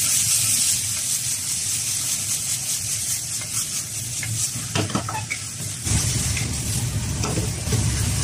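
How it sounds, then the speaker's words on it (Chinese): Green peppers and eggplant stir-fried with pork belly and a little sugar in a hot wok, with a steady sizzle and repeated scraping and tossing from a spatula, close and continuous with no talking. "稍微放点白糖，翻炒一下就可以出锅"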